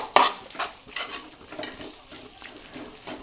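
Sabudana is stirred in hot oil in a pan: a sharp scrape of the spoon at the start, then soft repeated stirring strokes over a faint sizzle, close by and with no talk.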